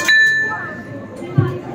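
A metal bell at an exhibit in the Delhi Science Museum is struck, giving a bright ding with a quick second tap, then a clear tone that rings out and fades over about a second, with a faint thump near the end.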